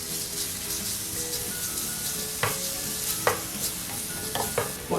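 A spoonful of minced garlic fries in a pan for spaghetti napolitain, a continuous moderate sizzle with a few distinct stirring scrapes and utensil knocks, no talk.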